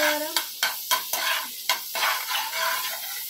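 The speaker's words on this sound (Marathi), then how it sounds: "इथे थोडं तेल घेतलंय, थोडं बटर घेऊया आणि हे जे मॅरिनेट केलेलं होतं हे आपण याच्यामध्ये जरा" Marinated mushrooms sizzle in a pan of oil and butter while a spoon stirs them, giving a run of sharp scraping strokes over a steady close frying hiss, with no voices.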